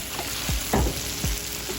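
Vegetables sizzle steadily in a hot pan, with a few soft thumps and scrapes as they are stirred; close and continuous, no voices.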